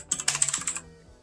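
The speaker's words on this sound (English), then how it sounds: "you're going to get that crisp click that everyone around you is going to notice" Quick bursts of typing on an Abkoncore K660 mechanical gaming keyboard with clicky switches, about eight crisp, close clacks in rapid succession before stopping.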